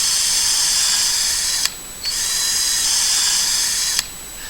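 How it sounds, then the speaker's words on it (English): A drill sound effect from a video edit: a high, continuous whirring spin that dips briefly twice, with clicks and grinding, close and steady throughout. "when I add in the sound effects of the drill, it feels like it's spinning"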